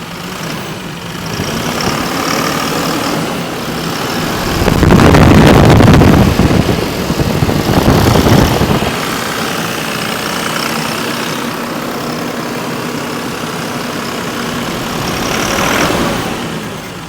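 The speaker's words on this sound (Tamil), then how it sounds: "இப்போ இந்த வண்டியோட இன்ஜினோட சவுண்டு வந்து நீங்கள் எப்படி இருக்குது அப்படின்றத நீங்கள் கேட்டுருங்க" An Eicher maxi cab van engine idles steadily with a low continuous rumble, swelling louder for a few seconds midway and again near the end.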